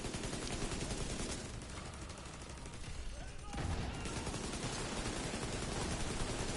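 Heavy, continuous gunfire and blasts in The Division 2 combat, with a booming explosion marking a surge partway through, dense and loud throughout while players talk.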